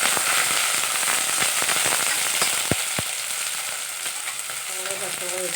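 Onion and green chilli fry in hot coconut oil in a cooker, giving a steady close sizzle broken by sharp crackles and pops, with no speech.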